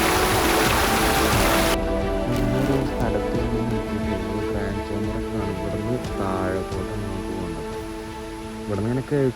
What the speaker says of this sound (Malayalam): വെള്ളം ചാടുന്ന സൗണ്ട് കേൾക്കും.